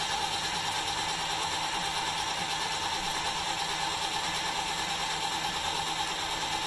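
Electric hitch jack on a rental RV trailer running up, a continuous whirring motor with a mechanical gear drone, steady and close throughout with no speech.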